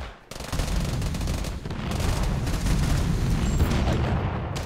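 A rocket launcher firing in a video game, a dense, loud, booming blast with rumbling gunfire-like noise that carries on steadily for several seconds.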